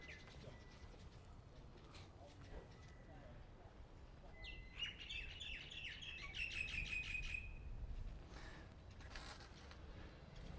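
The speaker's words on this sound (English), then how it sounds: "Well, did you hear the birds?" Birds chirp in a quick trilling burst in the middle, over a steady background hum, with faint scattered chirps before and after.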